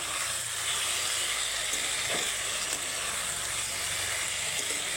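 Mourola fish sizzling in a pan while being stirred, a continuous close hiss of frying oil with a faint scrape or two and no talking.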